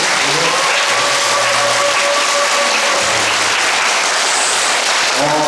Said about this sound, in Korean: 박수 한번 다시 한번 보내주시겠어요?